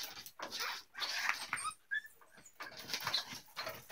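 A dog reacting after catching a rat from a trap, making close, agitated whimpers, yips and scuffling bursts in uneven rapid spurts, with short gaps between them.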